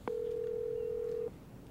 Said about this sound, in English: It's dialing already.